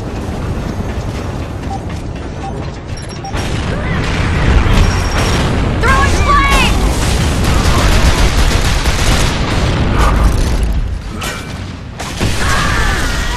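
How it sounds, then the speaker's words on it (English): A grenade blast and gunfire crash through a ranked team deathmatch on the Streets map in Gears of War: Judgment, with a loud, sustained burst of booms and debris rumbling for several seconds amid game effects. "Grenade! Look out!"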